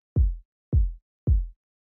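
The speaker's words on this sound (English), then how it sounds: "The next thing is this kick, which sounds like this." Unprocessed kick drum sample, three clean, deep thumps spaced evenly about half a second apart, each with a short low boom and quick decay, alone in silence.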